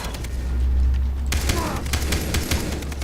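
Gunfire rings out in the Far Cry 3 video game: a low rumble, then from about a third of the way in, a loud run of rapid shots and bursts that fills the rest of the short clip.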